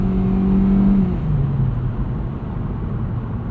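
A 2020 Hyundai Elantra Limited with a CVT transmission accelerates from inside the cabin, its engine drone rising in pitch then dropping as the transmission simulates a shift, steady and moderately loud.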